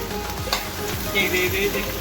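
Potatoes sizzle and fry in a kadai, a steady crackling hiss with a few soft stirring scrapes, close and continuous.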